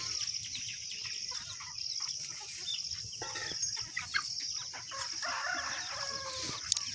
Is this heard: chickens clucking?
yes